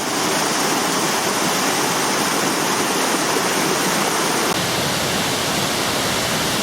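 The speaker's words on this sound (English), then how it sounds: "The beautiful sound of rushing water greets us at the bottom of the Mynydd path" Rushing mountain stream at the foot of the Mynydd path on Cadair Idris, a loud, steady broadband roar of water running without pause and with no voices.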